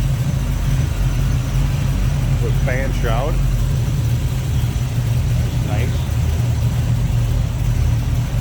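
A 1970 Chevrolet Nova V8 with a full roller cam and Holley 4-barrel carburetor idles steadily up close, a loud low rumble that holds throughout while someone briefly speaks over it.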